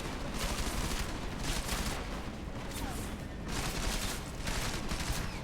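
Dense, sustained gunfire from many weapons in the video game Deus Ex: Mankind Divided, a steady loud barrage of overlapping shots throughout.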